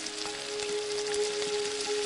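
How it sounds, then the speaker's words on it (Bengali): Palm malpua batter fries in hot refined oil, a soft, even, continuous sizzle heard up close with no voices. "এবার একটা হাতার সাহায্যে 1 হাতা ব্যাটার নিয়ে গরম তেলের মধ্যে দিয়ে দেবো।"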